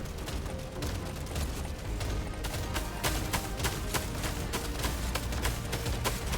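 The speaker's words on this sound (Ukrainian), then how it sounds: "Оп, уже хтось стріляє." Gunfire in the video game Deep Rock Galactic: Survivor crackles as a dense run of sharp shots, some in quick bursts, fairly faint under a busy game mix.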